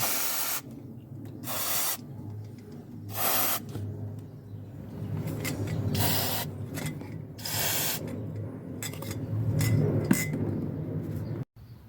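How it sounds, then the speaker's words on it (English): A deep socket wrench works loose the diesel injectors on a Toyota 5L-E engine, with ratcheting, metallic clinks and rasping scrapes. Bursts of spray hiss recur between them, heard close up with no talk. "We will use a 21mm deep socket wrench to remove the nozzle holder and nozzle set."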